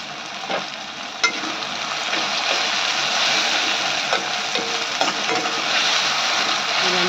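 Salt is stirred into potato curry in a pan, a steady sizzle with scraping spoon strokes and small clinks scattered through, close and fairly loud.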